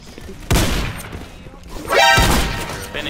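Two loud, booming blasts from a shotgun in a video game, roughly a second and a half apart, each with a rumbling tail over other game noise.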